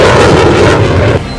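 A ceremonial cannon salute fired on the ground, a loud, close, rumbling boom that fills the short moment before fading.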